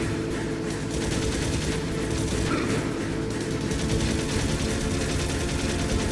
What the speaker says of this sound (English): Just trading blows with each other. Trading bullets.